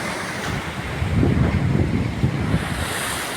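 Big sea waves surge and break near Chandragiri fort in Kerala, a broad, loud roar swelling and receding, mixed with gusty wind buffeting the microphone.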